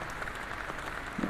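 Scattered applause from a crowd of people in the horror game Detention, a brief, steady wash of clapping at moderate level.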